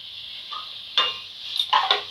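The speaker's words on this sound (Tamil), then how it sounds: "தக்காளி கரையிற வரைக்கும் வதக்கி விட்டுக்கிட்டே இருக்கணும்" Tomatoes and onions being sautéed and stirred in a pan for a Tamil-style fish curry, with soft scraping and clinks of a spoon against the pan, a few louder stirs near the end, and a faint steady sizzle underneath.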